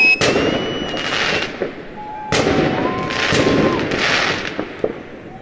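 Fireworks crackle and pop at a distance in Cape Town, with sharp bursts and whistling streaks over a constant noisy background.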